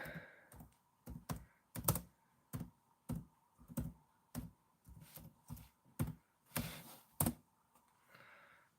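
Someone types on a computer keyboard at a slow, uneven pace, with distinct clacking keystrokes and short pauses between bursts, fairly close and quiet.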